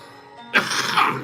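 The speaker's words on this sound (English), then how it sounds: "Excuse me for my coughing on you guys." A single short, harsh throat-clearing cough bursts out after a moment of quiet room noise, close and fairly loud.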